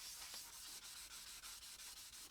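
A surface is sanded by hand in quick, even back-and-forth strokes, a soft raspy rubbing repeated rhythmically at close range, alone and fairly quiet.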